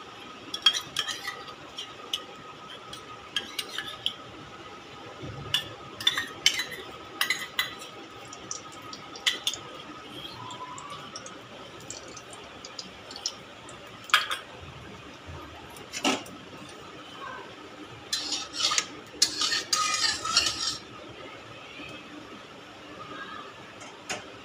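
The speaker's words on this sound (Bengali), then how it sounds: "ঘি দিয়ে একটু সেবাইটা ভেজে নিই" Vermicelli frying and being stirred in ghee in a wok, with a metal spatula clinking and scraping against the pan in irregular bursts over a soft steady sizzle, close and moderately loud.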